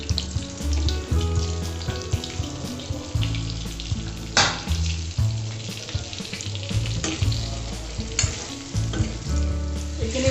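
A spice mix for restaurant-style bhindi masala sizzles loudly in hot oil, with scraping stirs and clinks over a dense, steady frying hiss and no talking.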